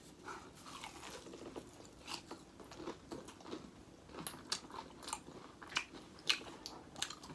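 Crisp crunching bites into spicy KFC fried chicken with a crunchy skin, close and fairly quiet, with irregular chewing crunches repeating over several seconds and no talk.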